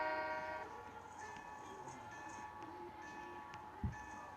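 A train pulling out of a station gives a steady rolling rumble with a faint whistle tone above it, and a short sharp clunk comes near the end.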